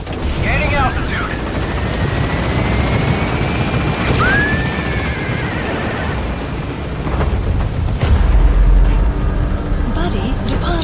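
Helicopter rotor drone from Metal Gear Solid V: The Phantom Pain, a steady loud chopping roar throughout as the aircraft climbs, with a deeper rumble swelling near the end and radio-style voices faintly over it.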